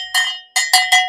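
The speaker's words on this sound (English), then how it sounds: "I'm going to ring this bell anyway." A small handheld bell rings four times, the first strike ringing alone before three quicker bright strikes follow, each with a short decaying tone, close and loud.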